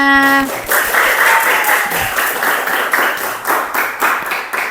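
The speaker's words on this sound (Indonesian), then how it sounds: "Ya, beri aplaus untuk semuanya." Applause from a classroom audience at an informatics teacher-training project presentation, a dense, steady wash of many hands clapping that stays loud across the whole stretch, with a brief tonal sound at the start.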